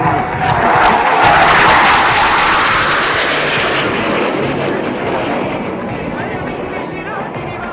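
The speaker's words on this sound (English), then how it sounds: "The aircraft that you see flying above are the Hawk Mark 132, advanced jet trainer" A Hawk Mark 132 advanced jet trainer passes overhead at an Indian Air Force Day air show, its loud jet roar swelling early, then slowly fading as it moves away.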